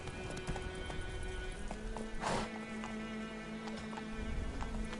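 In The Witcher 3, the horse Roach gallops with rapid rhythmic hoofbeats over a low game soundscape, with a brief whoosh midway through.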